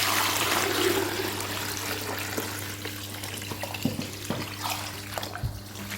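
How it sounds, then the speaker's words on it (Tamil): Water splashes and pours steadily into a container of vegetables being washed in a kitchen, a continuous rushing flow that fades into lighter trickles and small drips. "தண்ணி ஊற்றிக்கிறேன்"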